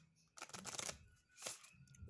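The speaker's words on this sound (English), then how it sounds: "That wasn't a very good shuffle" Tarot cards are shuffled close by in two quick riffling bursts, soft and fairly faint, with no talk.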